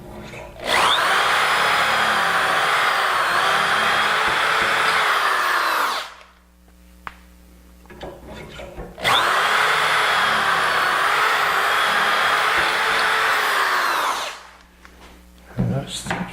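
A power drill bores dowel holes into bookcase shelf rails in two long, loud whirring bursts, each several seconds long and separated by a quiet gap with light handling clicks.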